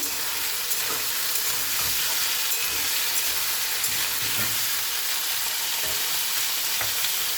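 Potatoes and yardlong beans sizzle and fry steadily in a pan, with scattered scrapes and clinks of stirring throughout, close and continuous.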